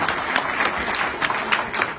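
Audience clapping at a DasCoin blockchain launch event, a lively crowd applauding with loud, rhythmic claps rising out of a dense patter.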